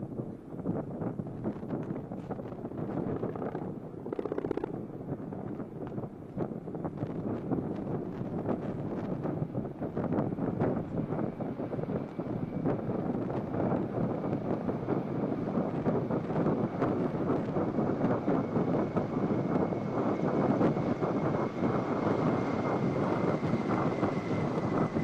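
Three Eagle helicopters flying past in arrowhead formation at an air display, a steady broad rotor and engine roar that holds for a long stretch, heard from a distance through heavy wind buffeting on the microphone.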